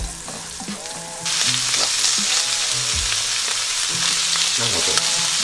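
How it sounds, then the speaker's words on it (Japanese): Sliced garlic frying lightly in 10 g of butter in a frying pan, a loud, close sizzle that jumps up in intensity early on and then hisses steadily, with occasional stirring clatter. "フライパンにバターを 10g、 うん、 はい、でこの中にさっきスライスしたニンニクを入れて軽く炒めます。"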